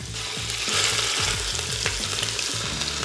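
Ground beef and Italian sausage browning in an Instant Pot, a continuous close sizzle with rhythmic scraping thumps of a utensil against the pot.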